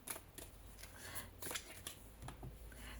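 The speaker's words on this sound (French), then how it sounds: "Je vais tirer 5 cartes." Cards being drawn one after another from a tarot-style deck, soft close slides and flicks of card stock, quiet and scattered over a few seconds.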